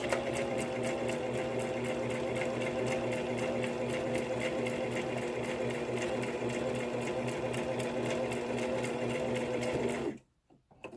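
Domestic sewing machine stitching a back stitch on fabric for a face mask, a steady close mechanical whir with rapid needle clatter running continuously for about ten seconds before stopping abruptly.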